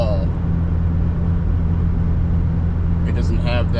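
Interior drive of a 3rd gen Nissan Frontier V6 with an aftermarket exhaust, giving a steady low rumble and road noise that run under a brief passing voice near the end.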